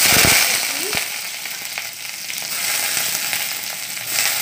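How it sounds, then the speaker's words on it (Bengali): Mustard oil sizzles in a wok while chickpea curry is begun, a steady bright hiss throughout with a sharp crackle and a clink of a utensil near the start, close and fairly loud. "প্রথমে আমি কড়াইয়ে তেল দিয়েছি, এখানে আমি সর্ষের তেল ব্যবহার করেছি।"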